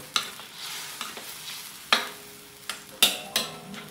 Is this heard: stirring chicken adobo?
yes